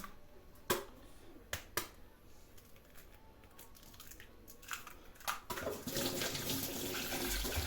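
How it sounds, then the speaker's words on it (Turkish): Running tap water as hands are washed in a home kitchen while making dough, with sharp clicks and knocks early on, then a steady, close water rush growing louder in the last two seconds. "Hemen elimi yıkadım."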